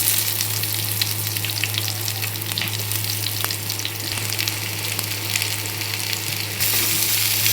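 Curry leaves, dried chillies and onions crackle and sizzle in hot oil, a loud, dense, unbroken frying hiss heard up close, with a steady low hum beneath and no speech.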